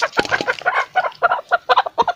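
An overweight hen that has stopped laying eggs clucks in a steady run of short, rhythmic calls, close and fairly loud, with no talking.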